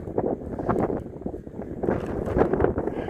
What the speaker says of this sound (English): Too windy to hold the camera still.